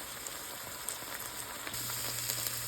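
Okra pieces frying in a pan until their edges char, a quiet, steady sizzle with faint crackles, heard alone with no talk.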